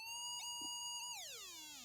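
An electronic tone holds steady, then sweeps smoothly in pitch, sounding clear and alone over a faint background hiss.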